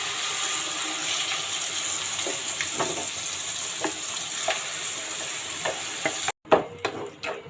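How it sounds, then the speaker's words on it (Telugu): Small onions and curry leaves fry in a pan with a steady, close sizzle, broken by occasional scraping stirs, ending with a few sharper clatters. "చిన్నుల్లిపాయలు వేస్తున్నానండి, కరివేపాకు వేస్తున్నాను."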